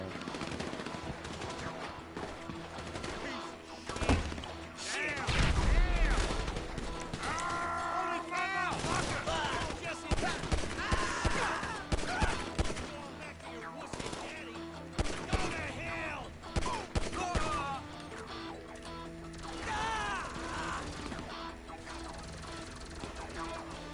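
Rapid gunfire in a shooter video game, sharp automatic bursts and single shots popping repeatedly at mid distance over a dense bed of game sound and background voices.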